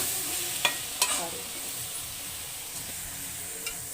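Onion and green chillies fry in a pan with greens added, giving a steady close sizzle and hiss broken by a few sharp scrapes and clinks of stirring.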